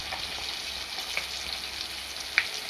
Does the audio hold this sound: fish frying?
yes